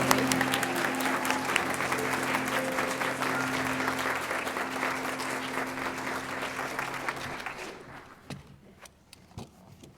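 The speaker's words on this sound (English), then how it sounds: "Let's give all our new members a round of applause" A church congregation at a Unitarian Universalist service claps for its new members, a warm, sustained round of applause that thins out after about eight seconds into a few scattered claps and room noise.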